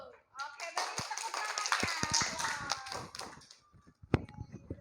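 A classroom group claps together for several seconds after a peer-teaching lesson on prayer and remembrance. The applause is dense and fairly close, then thins into scattered claps, with voices speaking around it.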